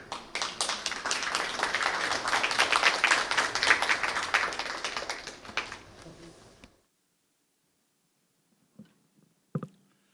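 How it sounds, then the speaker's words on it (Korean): Audience applause welcomes the chairman of a Korean historical research institute at an academic symposium, a dense, steady clapping crowd for about six seconds that stops abruptly, followed by silence with a couple of faint thumps. "함세웅 이사장님 큰 박수로 맞아 주십시오"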